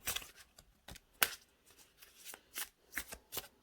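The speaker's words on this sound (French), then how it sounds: "elles se mélangent vraiment super bien" Oracle cards are shuffled by hand in a series of crisp, close riffling bursts with short pauses between them.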